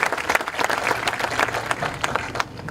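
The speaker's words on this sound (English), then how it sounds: "we can clap for that." A high school graduation audience applauds at a 2025 Williamstown ceremony, a steady wash of many hands clapping in a large space, moderately loud and sustained throughout.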